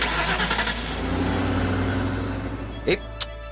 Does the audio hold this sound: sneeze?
no